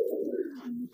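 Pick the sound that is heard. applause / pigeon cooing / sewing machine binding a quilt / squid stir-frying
pigeon cooing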